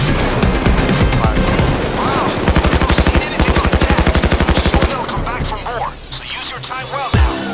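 Gunfire in Payday 2 comes as a loud, fast, even burst of automatic shots lasting a few seconds, with scattered single shots and voices talking around it.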